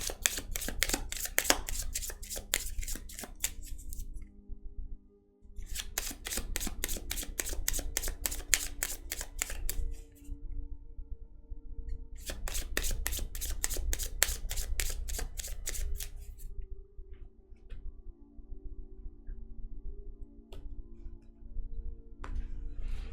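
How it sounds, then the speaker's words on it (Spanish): Tarot cards are shuffled in rapid riffling bursts, three long runs of quick flutters separated by pauses with softer handling sounds, close up and fairly quiet. "Vamos a barajar un poquito las cartas a ver qué viene para este día miércoles."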